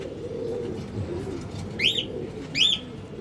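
Pigeons at a farm in Mirpur give two distinct cooing calls, fairly close, over a low, soft background murmur.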